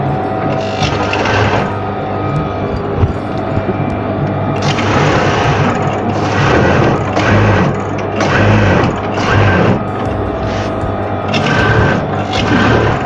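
A sewing machine stitching the folded edge of an apron, running in loud rapid bursts separated by short pauses, with mechanical clatter close by and no talking.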